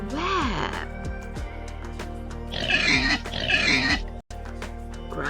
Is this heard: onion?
no